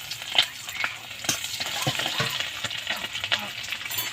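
Whole white cumin seeds frying in hot oil for a snake gourd and egg dish, giving a close, steady crackling sizzle dotted with small sharp pops throughout.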